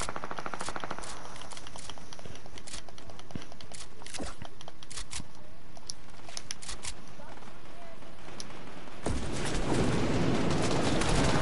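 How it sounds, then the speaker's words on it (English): Gunfire in a battle royale video game rings out as rapid bursts and scattered single shots, then swells into a dense, noisy rush near the end. "Who's shooting at you?"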